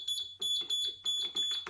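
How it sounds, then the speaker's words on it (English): A mobility scooter gives repeated high-pitched electronic beeps in short bursts, about five pulses with brief gaps, fairly loud and close. "Beep's working."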